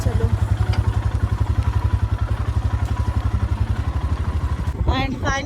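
A motorcycle rolls slowly in first gear over black ice on a mountain road in the Spiti Valley, its loud engine thumping in a steady close rhythm, with a voice briefly breaking in near the end.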